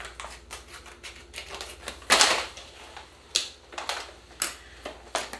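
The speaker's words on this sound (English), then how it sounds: "Next thing I'm going to do is just cut the corner of this bag off." Scissors snip through the corner of a bag of Kodak fixer powder, giving sharp crisp cuts and crinkly plastic rustles in a short close series, with no talk.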